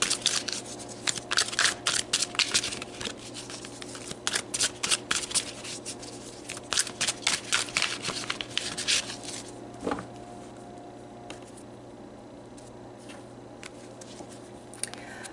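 Tarot cards being shuffled and pulled by hand, a busy run of crisp riffling and flicking bursts close by that thins out to sparse soft card taps and handling noises in a quiet room.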